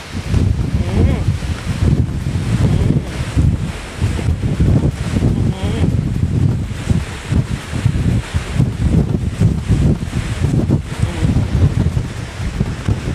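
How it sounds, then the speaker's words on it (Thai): Strong sandstorm wind sweeps across the Tottori sand dunes in Japan, roaring loud and steady with heavy gusts buffeting the microphone throughout. "ครั้งนี้มาตอนเป็นพายุทรายครับ"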